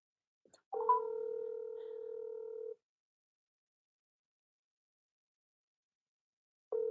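Telephone ringback tone while calling a woman back on a phone: one long steady electronic ring lasting about two seconds, then a long silent pause, then the next ring beginning, clear and close with no talk.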